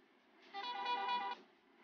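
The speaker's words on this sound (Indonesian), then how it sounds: "Aduh, mau ngerem malah klakson." A Scania-style trailer truck in a truck driving game gives one short, clear honk of a multi-tone horn lasting under a second, with quiet engine hum before and after.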